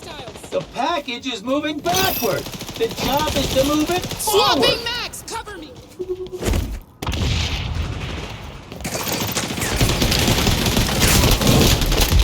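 Rapid bursts of gunfire in the online shooter XDefiant, loud, dense volleys of shots, with a voice talking over the first part before sustained firing fills the rest.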